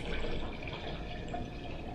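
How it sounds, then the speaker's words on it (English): Water pours steadily into a blender holding almonds for almond milk, a soft continuous splashing fill at low level without pauses. "let's go ahead and put 4 cups of water in there"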